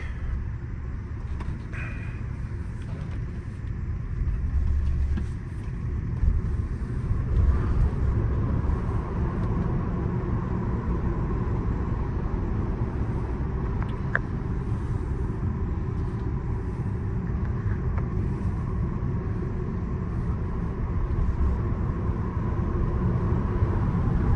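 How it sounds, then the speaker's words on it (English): Tesla Model S P85 electric car on the road, a steady low rumble of tire and road noise with a faint whine throughout, moderately loud and continuous with no voices. "we're gonna take a drive in it now"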